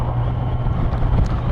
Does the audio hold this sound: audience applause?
no